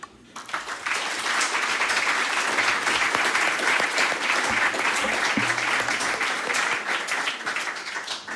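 An audience at an online inclusion launch event claps steadily in sustained applause, a dense, even wash of hands that swells in quickly and holds at full strength for several seconds, heard at a moderate distance with no voices on top.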